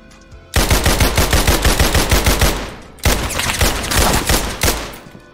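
Gunfire in the Criminality video game comes in two long, rapid automatic bursts followed by a single shot, loud and close with no speech over it.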